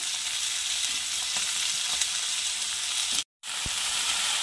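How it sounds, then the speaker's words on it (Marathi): Fenugreek leaves sizzling loudly as they go into a hot pan with peas, a steady bright frying hiss that cuts out briefly near the end and then resumes. "मेथी ॲड करत आहे"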